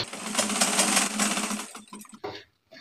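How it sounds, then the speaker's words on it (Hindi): A sewing machine runs a steady stitching burst on a lined kurta for about two seconds, then slows into a few short stops and restarts. "अब मैं सिलाई लगा दे रहा हूँ।"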